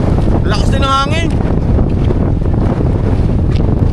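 Strong wind buffets the microphone at a rocky seaside fishing spot in Lobo, Batangas, a loud constant rumble with rough waves. A voice speaks briefly near the start.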